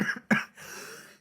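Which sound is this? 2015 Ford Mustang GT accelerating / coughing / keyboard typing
coughing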